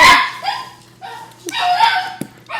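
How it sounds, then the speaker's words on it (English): Dogs barking indoors in a home, a few short bursts of yaps and woofs at irregular intervals, moderately close, with no talk over them. "There go the dogs"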